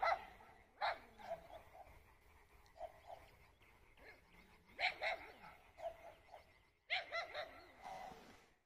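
Several dogs bark outdoors in the countryside, in irregular bursts spread across the stretch, some barks loud and near, with quieter yips and a faint background chorus between them.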